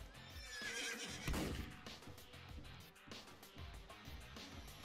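Pony neighs in a Roblox game, a loud whinny sounding twice up close amid clip-clop hoofbeats and game background noise, with no talking.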